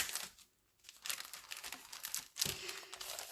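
A small sachet of scrapbooking supplies for a mini album kit being opened by hand, with close, crisp crinkling and a brief tearing rustle coming in uneven bursts between short quiet gaps.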